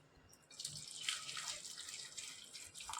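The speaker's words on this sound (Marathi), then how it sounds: "आता अर्ध्या वाटी कोकमसाठी आपण इथं 1 वाटी पाणी घेतोय" Water pours from a bowl into a pan holding kokum, a soft, steady trickling splash that starts after a brief pause and carries on quietly to the end.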